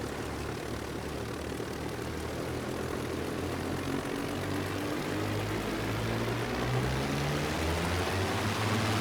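The engines of a Dornier Do J Wal flying boat in Microsoft Flight Simulator drone steadily at full power, a loud continuous propeller roar with low humming tones that slowly rise in pitch.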